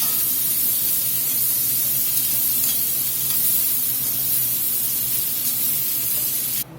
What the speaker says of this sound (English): Let them saute here a few minutes.